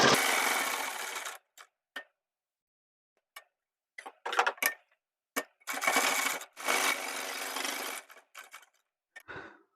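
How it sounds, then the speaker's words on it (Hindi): Sewing machine stitching a shirt collar, heard close in a few bursts of fast whirring separated by silences and brief ticks as the fabric is handled, with no talking. "यहाँ पर सिलाई लगा लेते हैं।"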